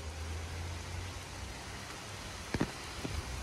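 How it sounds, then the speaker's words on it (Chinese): Hail pelts down steadily on flooded ground at a self-service petrol station, a dense close hiss with a few sharper impacts near the end; no one speaks. "天呐！ 哇操！ 冰雹啊！"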